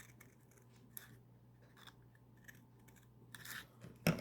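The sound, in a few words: cutting a paper rocket body tube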